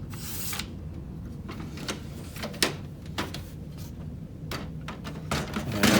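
A Brother TN 630 toner cartridge slides back and forth inside its drum unit, making a series of short plastic scrapes and clicks, some sharper than others, close up, with no talk.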